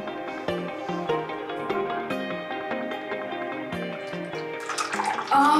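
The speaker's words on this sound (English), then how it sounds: "Now I'm gonna test my water filter to see if it goes down the drain." Water from a homemade rock filter trickles and splashes down a drain, with a tonal, ringing background under it and a louder gush near the end; no one speaks.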